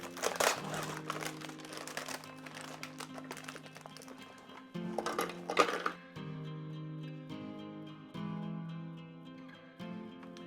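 Oreo cookies tumble into a food processor bowl with crinkling packaging and dry rattling bursts, followed by quieter rustling and handling, close and moderately loud.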